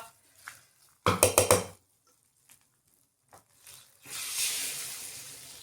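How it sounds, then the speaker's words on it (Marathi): Hot tempering of garlic and curry leaves hits cooked khichdi. A burst of sharp crackles comes first, and a sustained sizzling hiss rises a few seconds later and carries to the end amid quiet kitchen sounds. "आणि खिचडीवर आपल्याला छान अशी फोडणी घालून घ्यायची."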